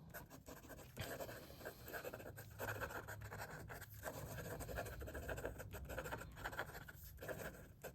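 An Admok M800 fountain pen writing fast on paper makes a soft, close, continuous scratching with quick rhythmic strokes and brief pauses.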